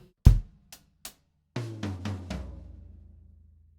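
A drum fill played on the high, medium and floor toms: a hard first hit and two lighter taps, a pause, then three resonant tom strikes descending in pitch, the last floor tom ringing out and decaying, close with no talking.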